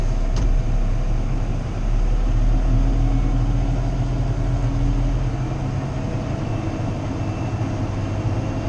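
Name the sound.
tractor with PTO-driven spreader engaged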